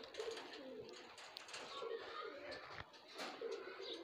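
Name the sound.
Sialkoti pigeon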